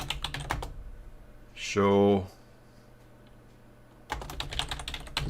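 Fingers tap quickly on a computer keyboard in two bursts of clicks. A brief spoken word and a short quiet gap separate the bursts.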